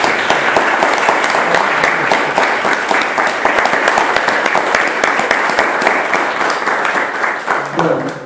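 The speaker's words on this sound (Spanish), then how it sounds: "primero quiero pedir un aplauso, ¿sí?, para todos ustedes" A Rotary club audience breaks into sustained, dense applause at an evening gathering, many hands clapping evenly and loudly for the full stretch.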